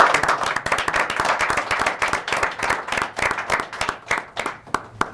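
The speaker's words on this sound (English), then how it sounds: "give them a round of applause for everything they do" Steady applause from the audience at a town Board of Selectmen meeting, many hands clapping densely at first and thinning toward the end, moderately close in the room.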